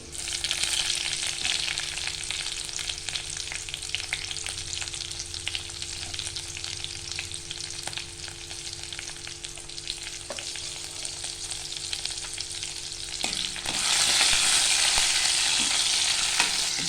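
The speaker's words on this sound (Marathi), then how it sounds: "जिरं आता टाकते. आता आपण टाकूया हिरवी मिरची." Cumin seeds and green chillies frying in hot oil in a home kitchen while cooking spinach dal, a steady loud sizzle with occasional stirring clinks, swelling louder near the end.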